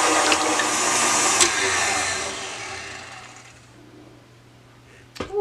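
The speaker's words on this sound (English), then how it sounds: "We're going to beat the egg whites till they're stiff." Stand mixer whipping egg whites for grain-free bread, a steady whir that fades down near the end before a brief clunk.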